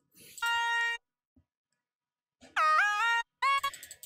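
Bright, buzzy trance synth lead with a triangle wave added plays in short separate phrases with gaps between, sounding thin and nasal, one phrase sliding in pitch.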